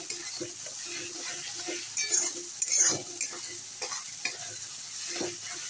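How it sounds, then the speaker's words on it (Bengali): Spice paste for a katla fish curry sizzles steadily in a hot pan while it is stirred, with a continuous close frying hiss and occasional scraping clinks from the spatula. "মশলাটা আমার ভালো করে কষানো হয়ে গেছে"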